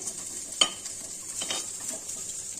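Tangra fish frying in a pan gives a close, steady sizzle, with a sharp clink of the lid or utensil near the start and a few softer stirring scrapes later, and no voices.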